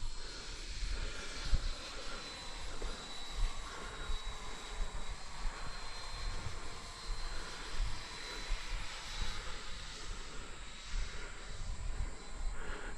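An RC Intruder model jet flying overhead with the throttle pulled back, a steady airy engine whine and hiss holding at moderate distance throughout, with no talk.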